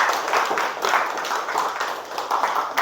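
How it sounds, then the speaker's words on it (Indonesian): A classroom of students claps for a classmate named Fadila, a steady patter of many hands lasting several seconds, fairly close and lively. "Aplaus dulu untuk Fadila."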